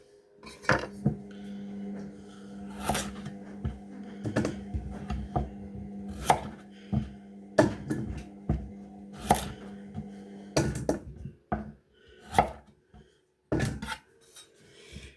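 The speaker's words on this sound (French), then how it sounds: "Là maintenant on va les couper en 2 morceaux les carottes" A knife chops carrots in half on a cutting board, giving a series of sharp, close knocks at an irregular rhythm, with a steady low hum running under the first part.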